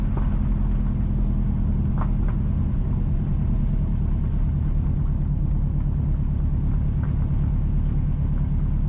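A car drives along the Montreal to Top Derry Road in Jamaica, giving a steady, loud, unbroken rumble of engine and road noise from inside the vehicle, with no talk.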